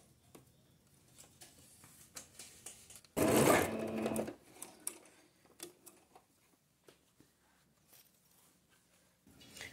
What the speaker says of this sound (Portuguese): Baixo o calcador aqui e faço o pesponto normalmente